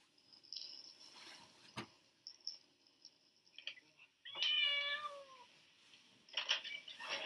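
A cat in a puzzle box gives a few meows, one longer drawn-out call midway and fainter ones later, over light rattling and shuffling from the box.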